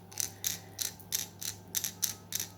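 A fishing lure is reeled slowly, its rattle giving a close, regular series of bright clicking bursts about three per second, each a short metallic clatter over a faint low hum.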